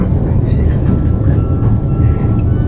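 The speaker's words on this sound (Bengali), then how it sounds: "নন্দনকাননের টয় ট্রেন।" A toy train at Nandankanan runs with a close, loud, low and even rumble that lasts through the whole brief stretch, with faint voices in the background.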